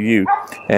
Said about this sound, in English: The dog, you can probably hear him over there panting and barking.